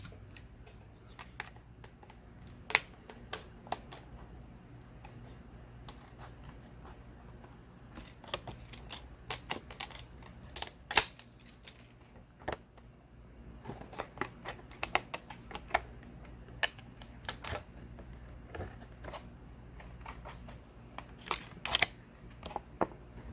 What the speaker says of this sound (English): So what I'm gonna do, I will just cut it.